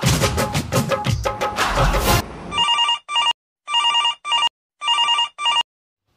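A phone call placed to a doctor rings out: after a burst of loud rustling and handling noise, a telephone ringback tone sounds in three paired bursts with short gaps, clear and close with no talking.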